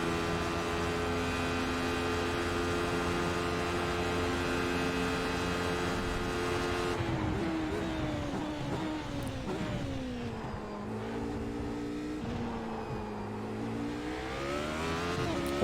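A Radical SR8 race car in the iRacing video game, its engine droning at steady high revs and then falling and climbing again in pitch as the driver lifts and reaccelerates, loud and continuous with no talking.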